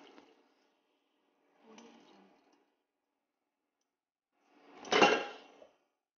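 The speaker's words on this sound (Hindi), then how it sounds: "हम इसे स्ट्रेन कर लेंगे।" Boiled pasta is strained, with a couple of faint clinks and scrapes of the pot followed by a louder splashing gush of water poured out, all in a quiet kitchen.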